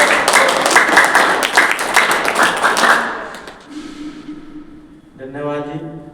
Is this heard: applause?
yes